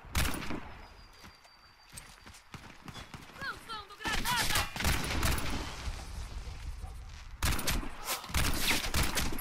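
Gunfire in the Warface shooter game, bursts of rapid automatic shots in clustered volleys with brief quieter gaps, loud and close.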